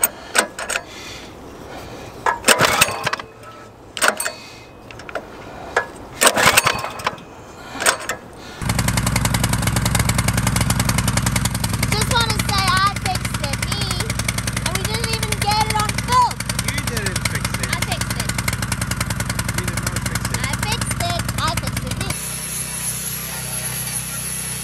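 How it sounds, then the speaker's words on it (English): A generator engine on a rusty barge starts up after some clattering and knocks, then runs steadily as a loud constant drone while a voice talks over it, before the sound changes abruptly near the end. "So as you can see, we finally got the generator started,"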